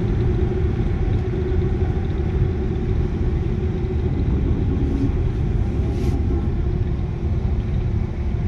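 Heard from inside, a bus engine rumbles steadily while travelling from Malvan toward Mumbai, a continuous low drone with road noise and no breaks for the whole stretch.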